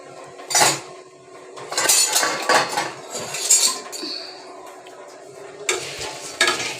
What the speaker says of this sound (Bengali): এবার আমরা মুড়িটা ভেজে নেব।